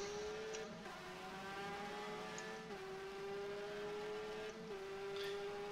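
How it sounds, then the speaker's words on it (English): Renault V10 Formula One engine from a 1991 car in the rFactor racing game, heard from the cockpit as a steady high-pitched drone that holds nearly constant, with two brief dips as the driver shifts gear. "the Renault engine sounds fantastic in this game"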